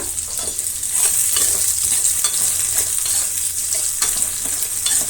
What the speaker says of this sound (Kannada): ಈಗ ನಾವು ಈರುಳ್ಳಿನ ಕಟ್ ಮಾಡ್ಕೊಂಡಿರೋದನ್ನು ಹಾಕಿ ಫ್ರೈ ಮಾಡೋಣ.